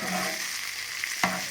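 A short burst of tadka spices crackling and sizzling in hot oil for dal, a broad hiss with a sharp pop near the end.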